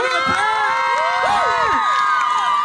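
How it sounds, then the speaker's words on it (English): High school audience cheering, whooping and clapping for a student after he raps at an interview event, a loud dense crowd roar with shrill shouts and rising yells throughout. "let's give him a round of applause"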